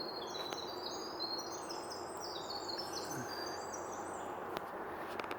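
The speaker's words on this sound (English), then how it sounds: "That's an amazing sounding bird." A bird calls in the woods along the Appalachian Trail, giving repeated high whistled chirps in quick runs over a steady, faint forest background hiss.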